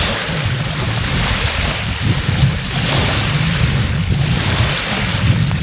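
Loud, continuous roar of surf and gusting wind buffeting the microphone, with no voices.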